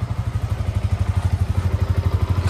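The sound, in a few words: motorcycle engine starting with self-start and running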